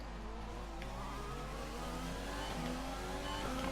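Formula 1 race car engines roar in the F1 2020 video game at the Canada circuit, a continuous loud whine of revving and accelerating cars throughout.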